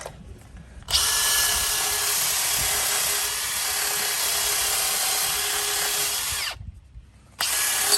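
A power drill whirs steadily and loudly at close range for several seconds in a car workshop, then stops briefly and starts up again near the end.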